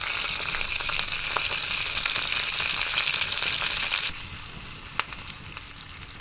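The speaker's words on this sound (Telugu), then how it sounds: "దీంట్లో ఈ పోపు అంతా వేసేస్తున్నాను. ఆవాలు, జీలకర్ర, పచ్చిమిర్చి, కరివేపాకు, ఇంగువ." A tempering of mustard seeds, cumin, green chillies, curry leaves and asafoetida sizzles in hot oil for dal: a close, steady crackling hiss with scattered pops that eases slightly partway through.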